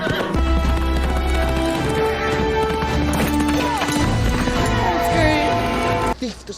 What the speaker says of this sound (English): He's gonna take a horse, isn't he?